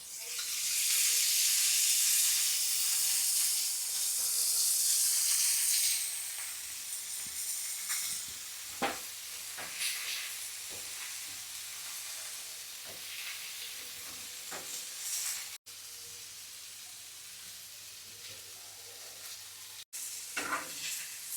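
Bombay duck fish frying in oil on a hot tawa over medium heat, a loud steady sizzle and hiss at the start that settles into a quieter, continuous crackle with scattered pops throughout.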